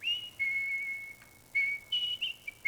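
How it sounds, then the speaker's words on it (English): A ruby whistle sounds in a run of clear, high whistled tones: one long held note, a short break, then several shorter bursts with slight pitch bends, fairly quiet against a still background. "He sat in his palace and whistled his ruby whistle."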